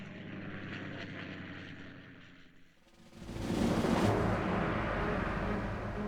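Wartime propeller aircraft fly during Allied operations before the invasion of Europe, a loud steady engine roar that dips briefly and then swells louder and rougher, as if passing close overhead.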